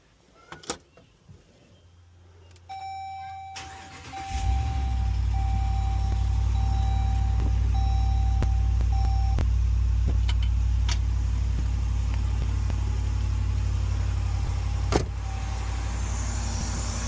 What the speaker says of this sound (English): I'm going to turn this vehicle on, and then we'll test the charging system